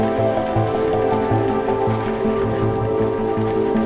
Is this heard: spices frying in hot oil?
no